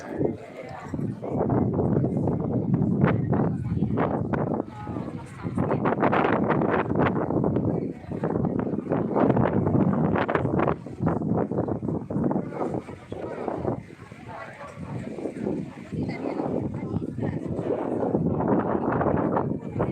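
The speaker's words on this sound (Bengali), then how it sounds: "এখানে প্রচন্ড হাওয়া" Strong wind buffets the microphone at the Colosseum in Rome, a steady roar of rumbling gusts that runs through the whole stretch, with a voice talking underneath.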